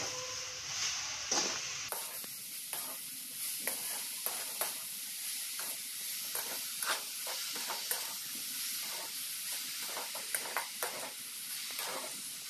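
Carrots and sugar stirred in a pan over low gas for carrot halwa, giving a steady soft sizzle with a string of scraping stir strokes, close up with no talk.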